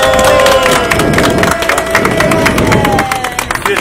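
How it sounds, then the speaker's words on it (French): A conference audience in Douala claps and cheers loudly in a lively burst, with crowd voices and a tonal whistle-like sound mixed in. "On applaudit."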